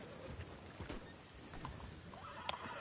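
A horse in Red Dead Redemption 2 whinnies and snorts, with hoof clip-clops close by, a fairly faint, busy mix of neighs and footfalls.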